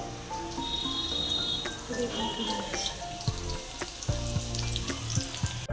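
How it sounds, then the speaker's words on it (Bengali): Vegetables fry in oil for a Nabanna harvest festival meal, a steady close sizzle punctuated by stirring clinks and scrapes against the pan. "এদিকে ভাজাভুজি চলছে"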